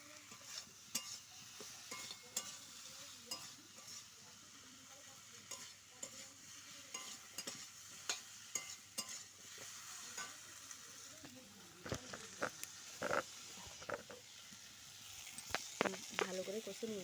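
Fish curry sautés in a pan with a steady soft sizzle while a utensil scrapes and stirs at irregular intervals, close but fairly quiet.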